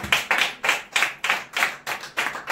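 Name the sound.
audience clapping hands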